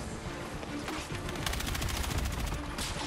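Rapid bursts of automatic gunfire and shots in the Battlefield 6 beta, a Breakthrough match, dense and continuous, growing louder and more rhythmic midway, with no talking.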